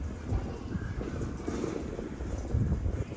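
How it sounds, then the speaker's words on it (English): Steady wind buffeting the microphone during a morning street walk through Shibuya and Yoyogi in Tokyo, a continuous rumbling roar with low gusts and faint background hiss, no talking. "It's quite windy today."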